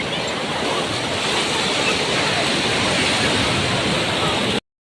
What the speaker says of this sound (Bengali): এদিকে দেখো ঢেউটা একটু দেখো